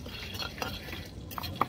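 A spoon stirs chaat and bhelpuri ingredients being lightly warmed in a pan, with soft scraping and a few metallic clinks over a faint sizzle, quiet and close.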